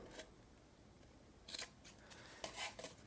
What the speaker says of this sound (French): Alors, on vient couper. J'aime bien couper en biseau.